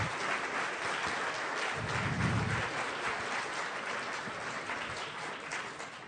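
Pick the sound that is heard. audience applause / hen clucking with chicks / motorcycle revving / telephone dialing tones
audience applause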